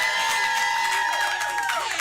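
A comedy club crowd cheers, whoops and claps in a dense, continuous roar that fills the room.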